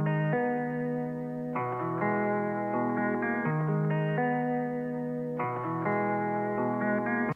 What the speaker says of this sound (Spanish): En primer lugar, tenemos la melodía principal de la guitarra